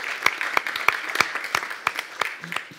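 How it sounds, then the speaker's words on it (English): A small group claps in a loose, uneven rhythm for a few seconds at a panel discussion on European youth, the applause sounding close and moderately loud. "would it be weird to ask for a round of applause for that question?"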